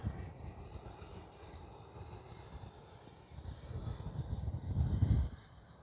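An FMS Integral 80mm RC jet flies past with a steady, rushing whoosh that swells louder toward the end as the throttle is powered up, with no voices.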